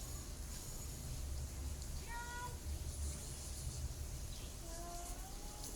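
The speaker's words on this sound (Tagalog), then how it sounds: "Parang may pusa sa taas siya." A faint cat meowing twice from upstairs, distant and muffled, over a steady low background rumble.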